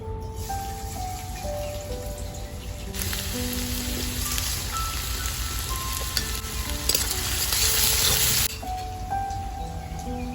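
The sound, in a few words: chopped onion and garlic frying in a pan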